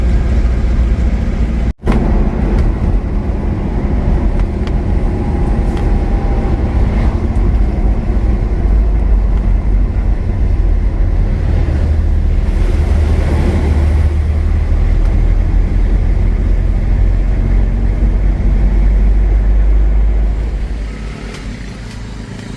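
A Toyota Kijang LGX diesel cruises along a road in Sumatra, a steady loud low engine and road rumble heard from inside the cabin with no speech, briefly interrupted by a click and easing off near the end.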